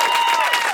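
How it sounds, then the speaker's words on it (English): Brief burst of audience applause at a live improv comedy show, dense and fairly loud clapping with a few excited voices mixed in, already in full swing and continuing without pause. "Big round of applause for Anshika,"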